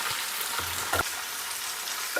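Chicken fries in a pan with a quiet, steady sizzle, broken by a couple of brief stirring scrapes and light clicks, no talking.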